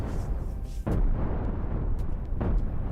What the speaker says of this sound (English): has 6 deck cannons, so 3 on each side firing at you, and 4 nukes hitting you from all different sides